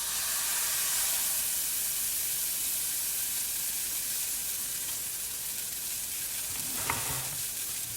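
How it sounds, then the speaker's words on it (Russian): Pancake batter fries in a pan over very strong heat, giving a steady, loud sizzle throughout with a brief scrape or stir near the end; no talking. "Начинаем жарить блины."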